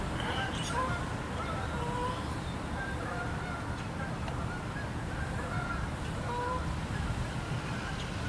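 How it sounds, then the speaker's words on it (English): Several Canada geese honk on and off in the distance, their calls scattered over a steady outdoor rumble. "Canadian geese."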